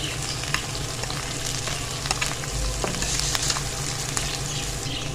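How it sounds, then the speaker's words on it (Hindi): Chopped ginger and garlic fry in hot oil for a dhaba-style fried daal mash, with finely chopped green chillies going in. The pan gives a steady, close sizzle that goes on without a break, and nobody talks over it. "अदरक लहसुन हमारा भुनना शुरू हो गया। अब साथ ही हम इसमें डाल देंगे सब्ज़ मिर्चें बारीक कटी हुई,"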